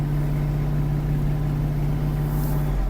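Kubota GL-260 Japanese mini tractor engine running while driving, a steady low droning hum heard from on board, constant and fairly loud throughout.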